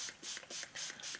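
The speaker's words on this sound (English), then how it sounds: "I'm gonna spray some water on this" A spray bottle mists water onto a Christmas art journal page in several quick hissing bursts, close and soft, with short gaps between pumps and no talking.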